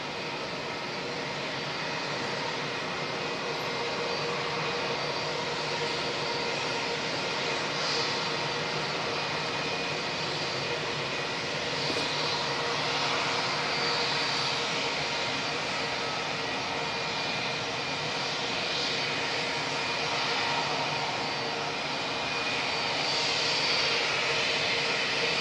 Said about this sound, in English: Wow, Cathay pushing back already. Flight 198 heading back to Hong Kong.